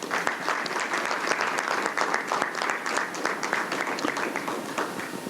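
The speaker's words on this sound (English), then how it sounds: "I think we should give them a round of applause." A steady round of applause from a sizable crowd at a school board meeting, dense clapping that holds at an even level throughout.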